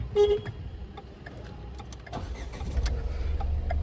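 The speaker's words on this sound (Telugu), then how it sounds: "ఆ బండి ఇంజన్ నాయిస్ చూస్తుంటేనే ఒక సేల్ బండి టైప్లో అనిపిస్తుంటుంది" A 2015/16 Ford EcoSport Trend diesel runs nearby with a low engine rumble that swells and steadies toward the end, mixed with a few light clicks.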